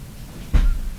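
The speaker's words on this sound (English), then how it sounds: "The sounds you're hearing are my cats playing in the laundry room next to me." A single dull thump from cats playing in a laundry room next door, a low muffled knock over a quiet room hum.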